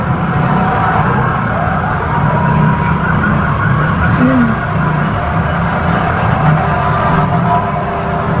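Fire truck siren at a fire in Mandaluyong City, a loud wailing siren mixed with traffic and engine noise, steady throughout with crowd sounds around it.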